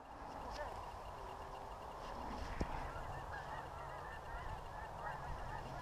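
A flock of geese honks overhead during a goose hunt, distant layered calls running steadily through outdoor wind noise, with people talking nearby.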